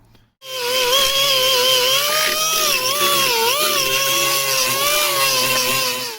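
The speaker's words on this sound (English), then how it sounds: "I'm going to have to go and use the die grinder, which will take ages" A die grinder works over welded bodywork on a Mk3 Vauxhall Cavalier, a steady high-pitched whine that wavers as the tool is pressed and eased, loud and close without any voices.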